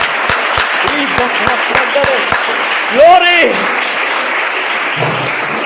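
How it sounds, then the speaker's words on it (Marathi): A church congregation at Sharon Church, Vaijapur claps in a quick, steady rhythm, followed by a voice speaking over the room. "जोरदार टाळ्या वाजूया"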